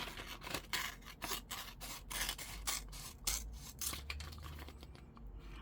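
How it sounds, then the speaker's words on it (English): Scissors cutting around packaging scraps for junk journal ephemera, a close series of crisp snipping and rasping cuts in an uneven rhythm, with paper rustle between strokes and no talk. "So let's cut around here."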